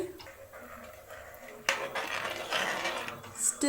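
Half a kilogram of soaked basmati rice tipped into a pressure cooker and stirred, a soft wet rattle and scraping that swells partway through, with light clinks of utensil against the pot.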